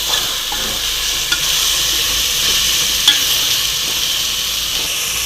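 Turmeric, a pinch of chilli and coriander powder being stirred into paneer biryani masala in a hot pan, a steady close frying sizzle with faint scraping and one small clink, continuous with no talking.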